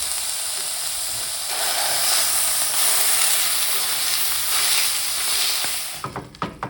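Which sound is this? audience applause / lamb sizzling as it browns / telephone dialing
lamb sizzling as it browns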